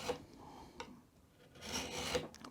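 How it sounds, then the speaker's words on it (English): A hand file is drawn across a metal square in two rasping strokes, a short one at the start and a longer sustained pass later, close and fairly quiet. "we're going to do what's called draw filing"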